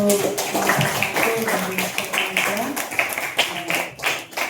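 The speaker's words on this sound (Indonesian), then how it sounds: "Oke, berikan aplaus dulu untuk" A classroom of students claps for a classmate in a lesson on computational thinking, a dense ripple of many hands under overlapping voices, fairly close and continuous.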